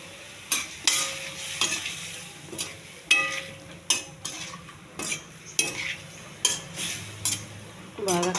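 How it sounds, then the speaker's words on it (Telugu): Mushroom curry being stirred in a pan with salt, chilli and spices, a spoon scraping and clinking against the metal in repeated close strokes over a soft sizzle. "బాగా కలపాలి ఉప్పు కారం పట్టేంత వరకు"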